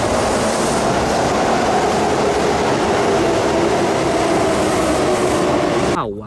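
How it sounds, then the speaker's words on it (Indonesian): A toy train runs continuously close by, a steady loud mechanical rumble and rattle that cuts off abruptly near the end. "ternyata ada mainan kereta api teman"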